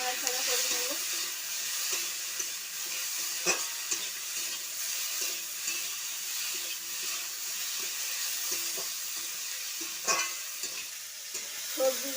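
Vegetables with turmeric fry in a pan in a home kitchen, giving a steady hissing sizzle throughout, broken by occasional scrapes and stirs of a utensil.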